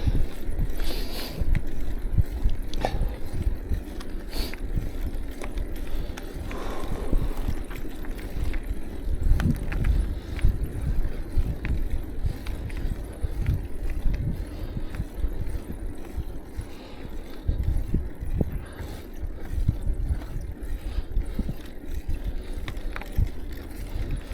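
Wind buffets the microphone steadily while a cyclist pedals up a big hill in Korea, a continuous low rumbling roar with gusty swells and no speech.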